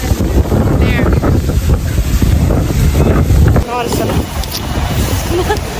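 Strong wind buffets the microphone on a tour in Taiwan, producing loud, continuous roaring gusts that surge and ease over a few seconds, with people talking close by through the noise.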